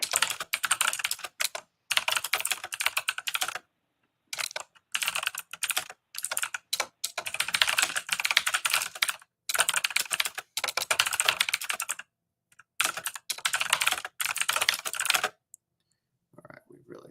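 Fast clicking on a computer keyboard comes in close, crisp bursts of keystrokes separated by short silent pauses, loud and alone without talk over it.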